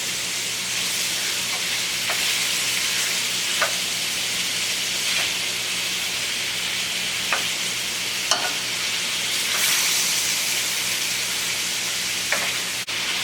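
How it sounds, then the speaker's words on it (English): Pork sautés in a pan for green chile pork, a steady loud sizzle and hiss with occasional scraping stirs, running continuously with no talk. "So you saute the pork up until it's partly done."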